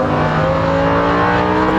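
Lamborghini Huracan accelerating, a loud, steady, close engine roar climbing slightly in pitch over a short burst, with no talk.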